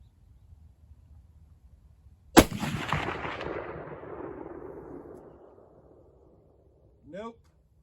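A Marlin 336 lever-action rifle in .30-30 fires one sharp, loud shot at steel targets; the blast rolls into a long fading echo, and a few seconds later a faint, brief ring of a distant steel plate being hit follows.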